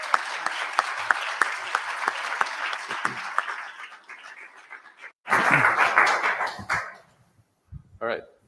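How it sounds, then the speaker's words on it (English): Audience at a university panel on large language models applauding the panelists, dense clapping that fades, then a burst of louder clapping and crowd noise before a short quiet pause and a brief voice. "let's applaud for them"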